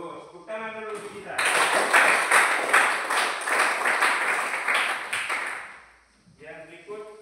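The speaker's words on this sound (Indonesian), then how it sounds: "tepuk tangan dulu untuk kita" A classroom of students claps together for several seconds, a dense burst of applause that swells and then fades. A teacher's voice can be heard speaking just before and after it.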